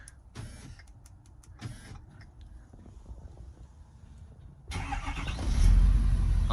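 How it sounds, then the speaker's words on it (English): A 2016 Ford 6.7 Powerstroke diesel pickup engine, started by remote, turns over and catches, rising to a steady idle after a few quiet clicks and mechanical sounds. "see if the remote start works"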